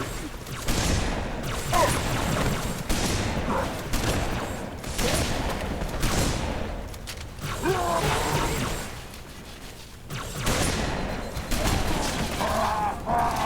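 Shotgun blasts in Halo 3 gameplay, a string of heavy booming shots with mechanical reload clacks spread across a dense, noisy firefight, game effects layered throughout.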